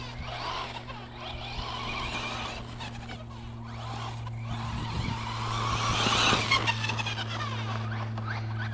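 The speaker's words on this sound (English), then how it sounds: "This electric truck's a lot of fun." Electric Kyosho MP10 RC truggy running in a motorcycle parking area: a steady electric motor whine with scrabbling tire noise that swells toward a skid near the end, loud and continuous with no talk.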